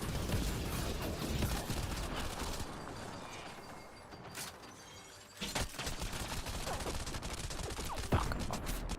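Gunfire in Mass Effect: Andromeda, with dense, rapid shots and crackling impacts filling most of the stretch, a brief lull around the middle, then renewed bursts and sharp cracks.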